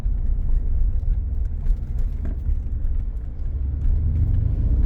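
A 2018 Mercedes-Benz G 63 AMG drives along with the AC on. A steady low engine and road rumble fills the cabin throughout, with no one speaking.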